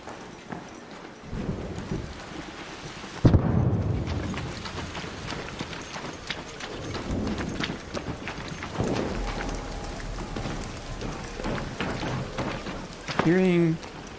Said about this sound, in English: Like I can feel the coldness of the rain in my shoulders.